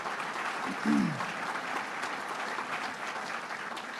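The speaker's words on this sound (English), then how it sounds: "Let's give her a round of applause." Steady audience applause at a governor's budget address in the Southern Tier, a dense, even wash of clapping from a crowd, with a voice cutting through briefly near the start.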